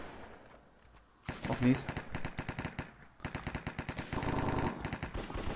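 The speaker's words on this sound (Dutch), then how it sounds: "Ik hoor mensen hier achter schieten." Bursts of rapid automatic gunfire and single shots ring out in the Cops and Crims video game, some distant and some close and loud, with a brief voice speaking over the shooting.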